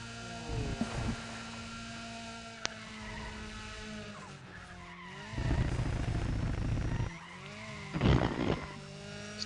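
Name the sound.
car going over curb in Need for Speed ProStreet video game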